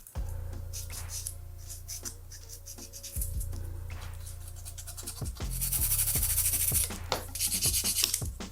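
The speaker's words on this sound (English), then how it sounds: "What happens if I take like a little sanding stick?" A small sanding stick rasps back and forth across a plastic card in close, steady scratchy strokes, speeding up and growing louder toward the end, with no talking.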